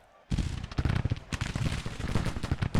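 Black-powder battle sounds fill a Grand Tactician: The Civil War engagement, a sudden onset of crackling volleys and booming artillery shots following one another in rapid, uneven bursts.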